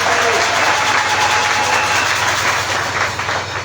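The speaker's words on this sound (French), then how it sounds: "Acclame le Seigneur Jésus" A church congregation applauds and cheers at a French-language service, a dense, loud, continuous wash of clapping that fades slightly at the end.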